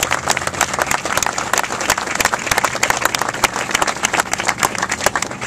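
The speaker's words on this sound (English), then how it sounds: "If his legacy lives on, clap your hands." An audience claps its hands at a civil rights association gathering, steady dense applause filling the room throughout with a faint murmur of the crowd beneath.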